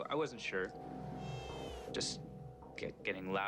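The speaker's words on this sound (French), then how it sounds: "ça ressemblait à des pleurs ou des miaulements" A cat meows and cries several times in short, plaintive calls, fairly close, with some overlapping vocal sounds.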